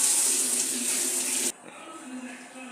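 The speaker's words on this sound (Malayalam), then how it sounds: "കഞ്ഞീൻ്റെ അരി ഇങ്ങനെ കഴുകുകയാണ്" Rice being washed in water for rice gruel, a close running-water gush that cuts off abruptly halfway, followed by softer swishing and a faint clink.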